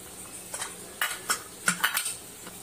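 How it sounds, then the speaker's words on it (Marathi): Metal idli mould pot clinks lightly as it is greased with oil, several short metallic taps and scrapes, fairly quiet and close, with no voices. "हे भांड्याला तेल लावून घेते, चांगलं ग्रीस करून घेते, जेणेकरून इडली चिटकणार नाही."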